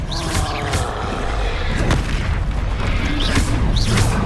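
Spell-casting blasts in the Hogwarts Legacy game, a dense run of loud booming explosions and magical bursts that keep coming over a steady rumbling bed, with no pauses.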